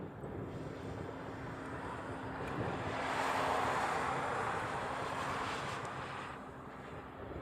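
A Korean Air Boeing 787 Dreamliner arrives at Honolulu, its broad jet roar swelling to a peak midway and then easing off, mixed with steady wind noise on the microphone.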